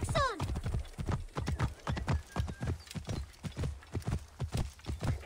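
Rapid rhythmic clip-clop of galloping horse hooves in the video game Assassin's Creed: Origins, close and steady, with a brief whinny at the start.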